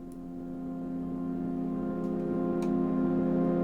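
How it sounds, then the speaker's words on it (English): A soft, sustained synth pad with a whoosh layer, echo and Valhalla reverb holds steady chordal tones that swell gradually, quiet and smooth, with faint clicks near the end. "Another whoosh type of sound."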